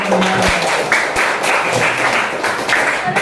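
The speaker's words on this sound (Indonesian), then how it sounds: "Ya, tepuk tangan." A class of students in an Indonesian school lesson clap their hands together on the teacher's cue, a loud, close burst of scattered claps with a few sharper individual slaps.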